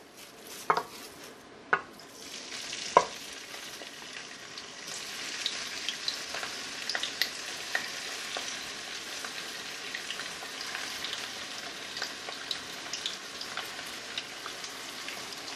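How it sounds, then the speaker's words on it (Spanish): Shrimp hit hot oil with a few sharp pops, then settle into a steady, close, crackling sizzle of frying that continues throughout. "Vamos a dejar que este aceite esté un poquito caliente, ya creo que está caliente, para tirar los camarones y dorarlos."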